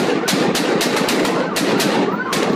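Rapid bursts of loud bangs crackle one after another over a constant roar of crowd noise, firecrackers thrown at police going off nearby.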